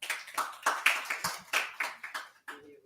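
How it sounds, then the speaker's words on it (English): About ten sharp, separate hand claps land in a quick uneven rhythm at a conference celebrating Vesak, fairly close and distinct, ending with a faint ringing tone. "please give him a big round of applause"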